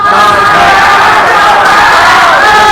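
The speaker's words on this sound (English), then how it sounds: "Crowd erupts for BmW." A packed audience at a Super Smash Bros. Ultimate top 8 match in Manchester roars in a sustained, loud wall of cheering and shouting that holds at full intensity throughout.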